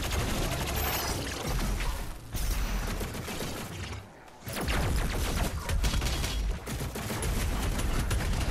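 Dense rapid booming and cracking bursts of cannon fire in Doom Eternal, loud and continuous, broken by a brief lull in the middle.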